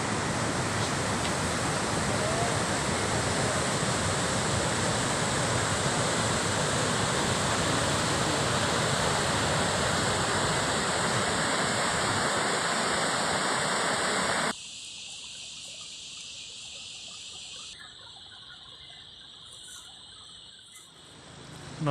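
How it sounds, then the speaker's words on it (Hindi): The Poonch river rushes past at Kotli in Azad Kashmir, a loud, steady roar of flowing water that carries on unbroken before suddenly dropping to a much quieter hiss near the end. "दरिया पुंछ बह रहा है ये।"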